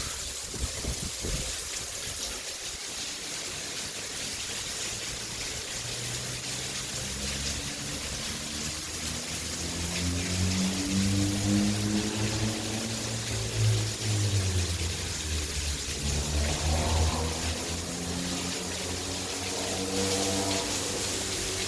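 Heavy rain pouring in Goleta, California, a dense continuous wash of water with rushing and trickling, joined midway by a low rising and falling engine-like drone, no talk.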